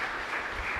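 Parish congregation applauding a married couple, a brief steady patter of many hands clapping, fairly faint and distant, with no voices.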